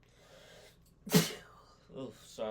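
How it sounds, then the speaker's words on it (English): A single sharp sneeze, loud and close, preceded by a quiet inhale and followed by soft breathy murmuring. "Oh, sorry, sneeze there."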